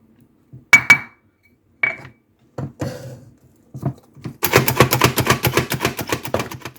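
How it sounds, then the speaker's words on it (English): Onions being chopped on a board with a knife, first a few scattered single cuts, then a rapid, steady burst of close, crisp chopping strokes near the end. "I'm just going to measure 1/3 cup this way and then just chop them."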